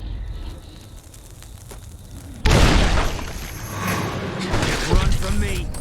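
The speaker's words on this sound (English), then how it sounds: "Grenade!" A grenade blows up in the video game Fallout: New Vegas. A sudden loud boom cuts into the game's ambient noise, then a rumbling, crackling tail. Voices are heard around it.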